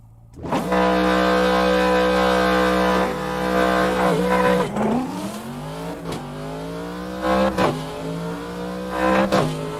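A turbocharged race car engine in the racing game Assetto Corsa, held at a loud steady high-revving drone, then dropping and climbing again through several quick gear changes with sharp rising pitch sweeps.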